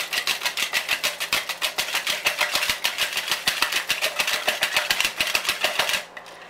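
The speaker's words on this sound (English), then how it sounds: "Give them a good whisk up." Eggs being whisked by hand in a 4-cup jug for custard, a fast steady clatter of the whisk against the jug wall, close and continuous for about six seconds before stopping abruptly.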